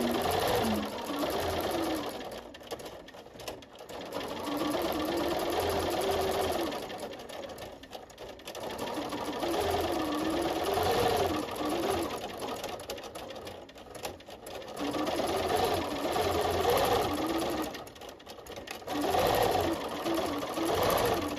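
A Bernina 440 sewing machine free-motion quilts spider web patterns, its needle running in a steady, close, fast whir with several brief pauses and restarts.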